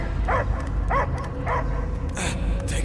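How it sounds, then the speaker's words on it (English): A dog barking in Marvel's Guardians of the Galaxy on PS5, several evenly spaced barks and yips over a dense game soundtrack with low rumble, a higher squeal at the end. "I hear only barking."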